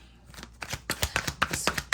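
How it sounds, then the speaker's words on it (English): Tarot cards being shuffled by hand, a run of crisp riffling bursts and slaps repeating quickly and close up, with no talking. "Let's shuffle, see what comes back out here"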